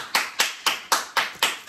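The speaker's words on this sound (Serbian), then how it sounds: "Aplauz, molim vas." Six sharp, evenly spaced hand claps, close and clear against a quiet room, with no talking.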